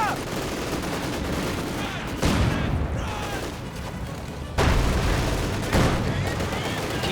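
Sustained machine gun bursts and thudding mortar impacts from a Company of Heroes 2 battle, with loud, dense gunfire running throughout and sharp explosive onsets punctuating the clip.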